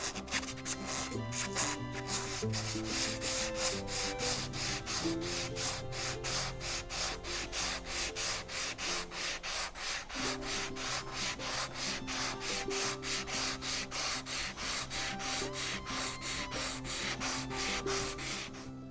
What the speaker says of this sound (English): I had some 220 sandpaper for a orbital sander I don't have anymore, and I'm gonna give it a try.